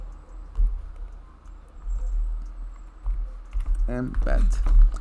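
Computer keys click in short bursts as a search term is typed into a WordPress search field, soft and close, with a person speaking over the later part.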